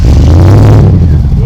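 A 1976 Triumph Stag Mark 2 engine catches and roars up loud and close, a deep rumbling burst that fills the whole short moment.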